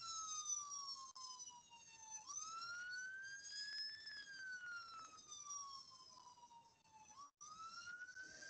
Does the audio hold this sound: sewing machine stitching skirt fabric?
no